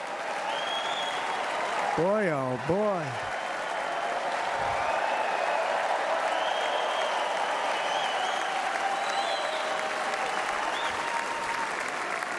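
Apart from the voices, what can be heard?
convention crowd applauding Hulk Hogan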